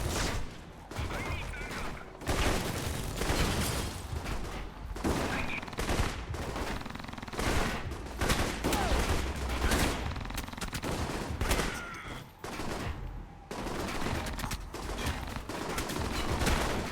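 Dense, sustained gunfire from a firefight in the stealth-action video game Alpha Protocol: loud, rapid bursts and overlapping volleys fill the whole stretch with only brief pauses, with voices talking in the mix.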